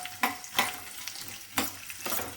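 Mustard seeds, cumin, urad dal and dried chilies being stirred in hot oil for chitrannam, a soft sizzle broken by four scraping stirs, close but fairly quiet, with no talking.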